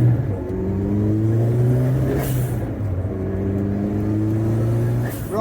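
A Vauxhall Nova GTE 16V turbo on a road test after a brake build, its engine droning loudly and steadily as it rises and falls through gear changes, with no talking.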